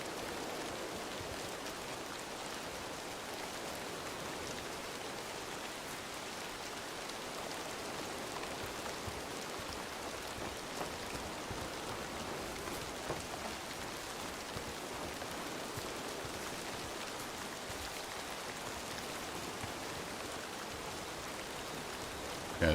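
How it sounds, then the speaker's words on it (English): Steady, even patter of rain falling in the hunting video game Way of the Hunter 2, a soft continuous wash of drops heard on its own throughout. "This rain's about to do me in. Sounds really good."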